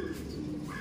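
A brief, soft, low coo from a kept bird, close by and alone.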